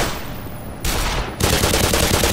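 Gunfire in the Black Mesa video game: dense, loud bursts of rapid shots that step up in intensity twice and continue without a break.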